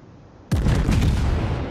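A German battleship, the Kaiser, in a naval warship video game fires a heavy broadside that breaks abruptly out of near silence as one loud, booming blast, then rolls on in sustained low rumbling echoes.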